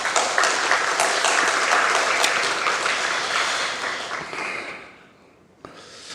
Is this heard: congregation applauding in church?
yes